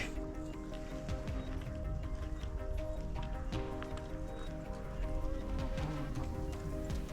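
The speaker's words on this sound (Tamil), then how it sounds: "கொஞ்சம் பேர் வந்து குதிரையில் போயிட்டுருக்காங்க." Horses walking along a trail beside a lake, soft irregular hoof clops over a steady outdoor background hum, fairly close and continuous, with no talking.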